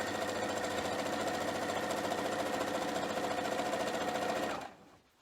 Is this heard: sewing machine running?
yes